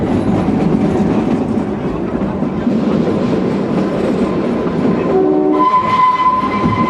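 The Shimla toy train rumbles and clatters steadily on a mountain line, loud and close, then sounds its horn in a short blast near the end.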